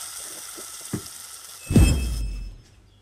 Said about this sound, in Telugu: పోపు వేగిన తర్వాత అందులోకి మనం ముందుగా రుబ్బి పెట్టుకున్న పచ్చడి వేసి వేపుకోవాలి